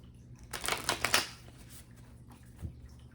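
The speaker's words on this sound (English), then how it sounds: "Last shuffle." Tarot cards are shuffled in a quick burst of riffling flutters up close, then a single soft tap follows after a brief pause.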